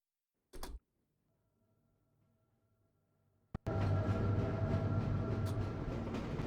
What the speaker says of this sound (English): This automated train is provided for the security and convenience of the Black Mesa Research Facility personnel.